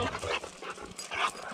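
A dog at Devils Tower, Wyoming, panting and whimpering in short, close bursts across the moment, with no other sounds standing out.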